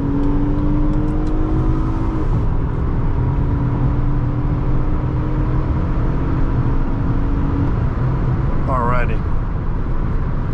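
A 2010 Honda Accord EX-L V6 accelerating while merging onto a highway, its engine note rising steadily from inside the cabin alongside continuous road and wind noise.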